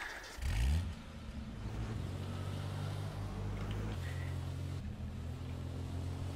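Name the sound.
police car engine revving in H1Z1 video game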